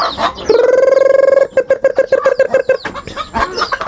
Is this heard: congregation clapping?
no